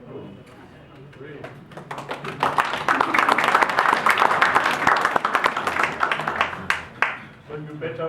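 An audience applauds at a lecture, a dense patter of clapping that swells and holds for several seconds before thinning out, with a voice talking over the start and end.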